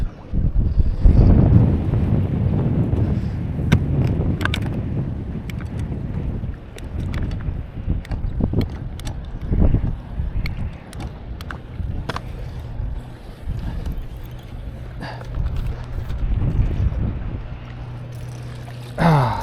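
Strong wind buffets a bass fishing boat on open water, roaring and rumbling loudly against the microphone in uneven gusts, with clattering knocks and splashy water noise throughout.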